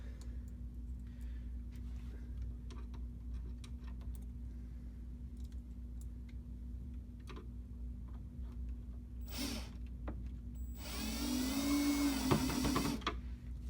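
Screws driven in with a power driver to attach a lid support during assembly of a shoebox cabinet, heard as a short whine near the end of the clip after a quiet stretch with faint handling clicks.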